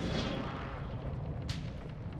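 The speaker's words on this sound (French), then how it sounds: "j'ai pris une balle dans le dos, Mabs." A gunshot rings out in a tactical shooter video game on the Vondel map: one brief crack midway through, over dense, constant rumbling noise.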